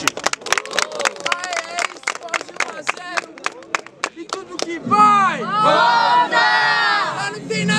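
A crowd at a rap battle in Guarulhos, Brazil cheers and shouts loudly, swelling into a sustained roar after a stretch of scattered yells and claps.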